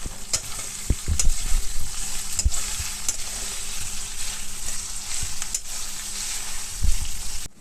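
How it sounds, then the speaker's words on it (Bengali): Capsicum and onions frying for chilli chicken, crackling and sizzling steadily in a hot pan, with a few louder stirring knocks and scrapes of a spatula; no voices. "ওর মধ্যে এবার ক্যাপসিকাম যেগুলো আমি কেটে রেখেছিলাম সেগুলো দিয়ে দিলাম"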